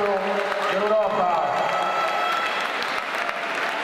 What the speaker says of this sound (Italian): Facciamolo veramente fortissimo l'applauso